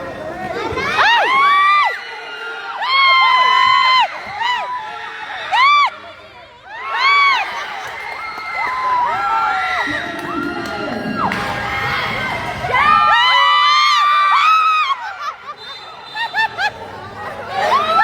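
A crowd of children shouts and shrieks in loud, excited bursts of cheering and whooping, with babble and laughter filling the pauses between the peaks.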